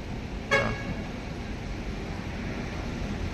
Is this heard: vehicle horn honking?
yes